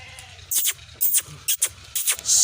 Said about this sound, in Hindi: ये वाला भी बकरा है